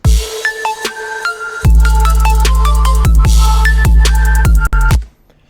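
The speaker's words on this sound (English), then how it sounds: "Today I'm going to be showing you how to make a minimal style trap song" A minimal trap track plays loud and close: a sparse melody over punchy kicks, crisp hi-hat rolls and deep booming bass, ending abruptly.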